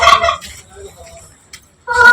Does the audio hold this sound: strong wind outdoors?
no